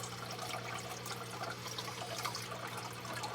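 Water being drained and siphoned out of an axolotl tank during a weekly change, a continuous close trickling and gurgling flow with a low steady hum underneath, no one speaking.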